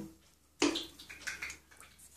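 Cold water poured from a cup onto flour and oil while mixing a zucchini bake batter in a home kitchen, a short close splash starting abruptly and trailing into softer trickling.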